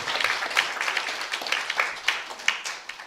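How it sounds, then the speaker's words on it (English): An audience at an evening spiritual program claps for the participants, scattered uneven claps from a small group standing out as distinct sharp hits. "Big clapping for all the participants."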